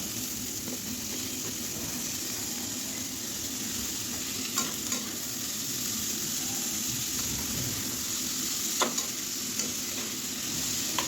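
Bitter gourd and potato hit onions already frying in hot oil, giving a loud, continuous close sizzle with a few brief scrapes and clicks of stirring on top.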